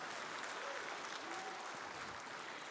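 An audience applauds the prime minister at a political gathering in Pahang, Malaysia, with steady, even clapping from many hands, moderately loud and continuous throughout.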